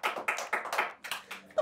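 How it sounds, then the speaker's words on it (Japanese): A brief round of hand clapping from a small group after a grape-eating challenge, several quick bursts of claps with short pauses, close and moderately loud, with no talking. "拍手。"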